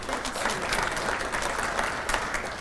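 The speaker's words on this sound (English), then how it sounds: "So, round of applause." Audience applause at a Carroll County regional economic event: a brief, moderately loud wash of many hands clapping together, steady throughout.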